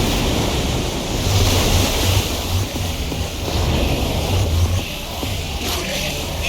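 Water gushes out in a loud, continuous rushing torrent in the Minecraft Story Mode video game, surging and steady at close range with no voices over it.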